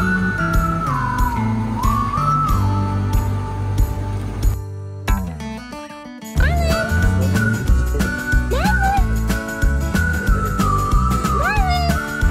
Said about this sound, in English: Meet Marlin, our swimming, ocean-loving, boat-riding cat that thinks he's a dog.